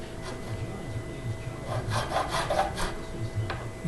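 Gentle rasping strokes of a file on the nut of a Gibson acoustic guitar, a steady close back-and-forth scraping with a few brighter strokes in the middle and no talking.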